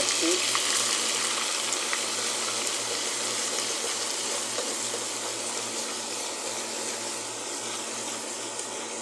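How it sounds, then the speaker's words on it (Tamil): Ginger and garlic fry in a pan of oil for a chickpea curry, giving a steady, faint hiss and sizzle that stays even throughout with no talk over it. "இஞ்சி பூண்டை போட்டுக்கலாம்"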